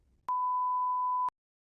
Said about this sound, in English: You may begin preparing after the beep.